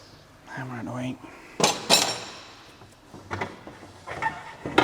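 A hammer taps on Lamborghini and Audi R8 gearbox parts on a workbench, giving several sharp metallic knocks and clinks spread unevenly over a few seconds. Faint voices can be heard between the strikes.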